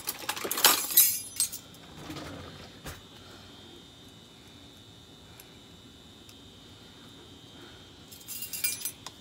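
Metal teaspoons clink as they are picked up while baking a peach cobbler: one bright cluster of jingling at the start and a second near the end, with a quiet kitchen hush between.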